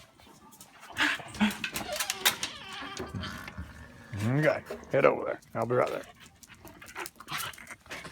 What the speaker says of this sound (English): And this is our dog